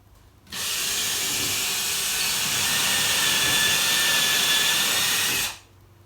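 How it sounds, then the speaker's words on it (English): A power drill whirs steadily at high speed for about five seconds, drilling an anchor hole while installing a barn door, starting and stopping abruptly, with no talking. "So let me drill one in the last hole."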